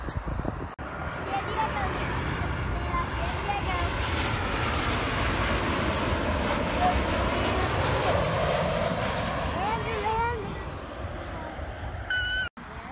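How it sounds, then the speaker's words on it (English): Fixed-wing airplanes approach an airport to land, their jet engine roar a loud, steady wash that swells and fades slightly over the whole stretch, with faint voices and chatter audible beneath it. "We got 3 planes lined up, but they're coming in to land right now."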